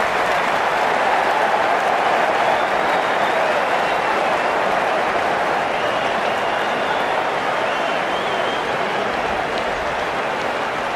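Crowd applause fills the stadium in the cricket video game Cricket 19 during a Bangladesh Premier League match, a steady, loud roar of clapping and cheering that carries on throughout.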